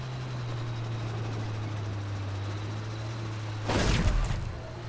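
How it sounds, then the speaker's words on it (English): Battlefield V engine droning steadily, then a short loud explosion burst near the end that quickly decays back into the hum. "Oh, that was a big explosion."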